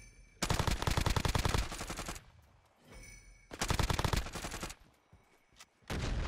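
Warzone video game gunfire, with loud bursts of rapid automatic shots in two long volleys, quieter gaps between them, and another burst starting at the end.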